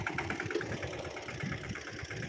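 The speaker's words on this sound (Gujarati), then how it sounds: "ટ્રેક્ટરવાળા ભાઈ ટ્રેક્ટર લઈને આવતા રહ્યા છે" A low, steady tractor engine idles continuously with a rough, slightly knocking rumble, close by and fairly quiet, with no voices.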